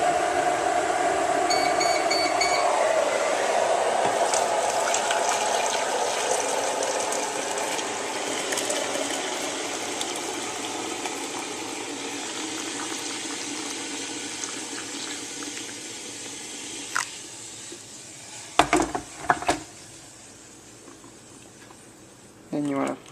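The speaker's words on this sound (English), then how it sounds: "You want to take the hot water, and you want to pour it into the container." Hot water pours into a container for chifir tea in a steady, close splashing stream that gradually thins out, followed by a few clicks and knocks near the end.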